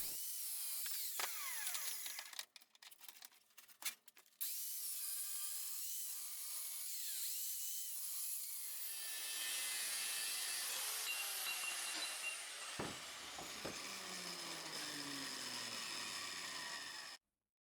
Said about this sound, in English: I'm using a 40 grit flap disc and a cut-off wheel for cutting the steel